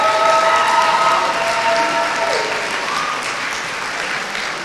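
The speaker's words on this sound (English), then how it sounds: "Let's give them a round of applause again." Sustained audience applause fills an awards ceremony hall, loud and dense at first and easing slightly while continuing steadily to the end, with faint crowd murmur and no clear speech.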